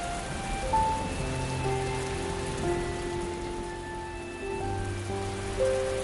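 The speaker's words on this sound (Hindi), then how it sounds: "अरे लड़की सुनो, बारिश हो रही है" Steady rain falls continuously, a dense hiss of drops on surfaces, with faint sustained tones lingering softly underneath.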